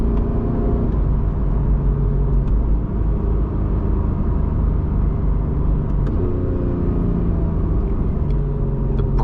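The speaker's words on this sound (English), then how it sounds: "the engine sound." A 2015 Porsche 911 GT3 engine while driving, heard from the cabin as a loud, continuous rumble and whir that climbs in pitch under acceleration, drops at a shift, then rises again.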